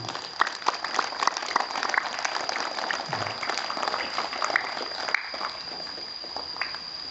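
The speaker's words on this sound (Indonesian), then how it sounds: "tepuk tangan buat adik-adik semuanya" Primary school pupils clap for themselves at an outdoor flag ceremony led by a visiting army soldier, a loose scattered patter of small hands, moderately close, with a faint steady electronic tone running underneath.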